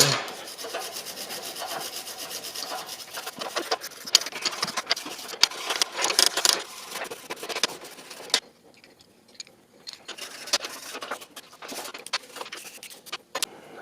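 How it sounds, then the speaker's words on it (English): Wire brush scrubbing loose paint and rust off a roughly 100-year-old Ford Model A/Model T adjustable wrench, a close, steady rhythmic rasping with sharp scratchy strokes that pauses briefly partway through, then resumes in shorter bursts. "that's what Mr. Wire Brush is for"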